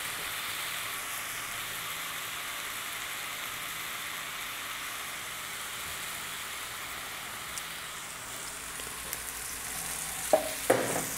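Fish cooking in olive oil in a frying pan gives a soft, even sizzle throughout, close and fairly quiet, with a few light utensil clicks near the end and no one talking.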